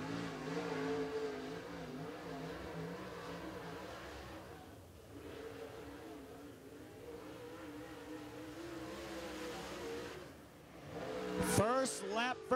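A DIRTcar dirt track race car at Clarksville Speedway runs a qualifying lap, its engine droning steadily with rising and falling revs before swelling into a loud, sweeping pass near the end, while an announcer talks over it.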